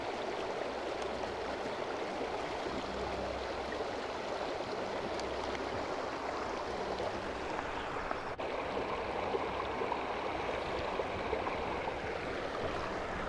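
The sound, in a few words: filling water bottle in a stream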